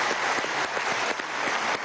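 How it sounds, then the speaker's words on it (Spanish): A studio audience at a televised political program claps in a steady, dense burst of applause that holds at an even level for the whole short stretch, with no voices over it. "Un aplauso también a Telesur, vale."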